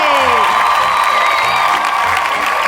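Children's audience at a kids' show clapping and cheering for guests, with whoops and excited shouts over a continuous loud crowd wash and music-like tones underneath.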